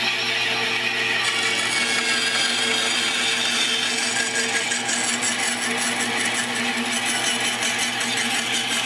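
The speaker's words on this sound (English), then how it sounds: "This is a bandsaw, so the blade is a big loop." A small tabletop Proxxon bandsaw cuts through wood. The motor hums with a continuous, fairly loud buzzing rasp, and the cutting grows brighter partway through. It runs without pause and no one speaks.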